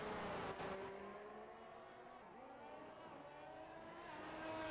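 Formula 1 cars race on the Bahrain circuit in a video game. A steady high engine whine sustains and shifts in pitch as the cars run, fairly faint and continuous.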